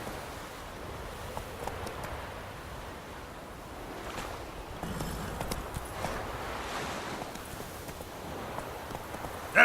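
Geralt rides his horse Roach in The Witcher 3, the hoofbeats a soft, quick rumble of galloping with a steady, muffled rhythm, moderately loud under a whooshing outdoor ambience.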